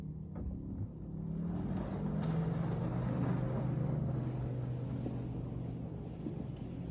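An electric Porsche Macan GTS on the move, giving a steady low road and wind rumble with a faint rising drivetrain tone, heard from inside the cabin and nearly constant throughout.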